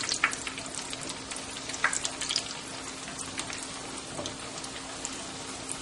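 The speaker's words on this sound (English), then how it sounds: "And they've been frying approximately 2 to 3 minutes." Potato chop patties fry in hot oil, a close, constant sizzle and crackle with scattered louder pops, steady throughout with no talking.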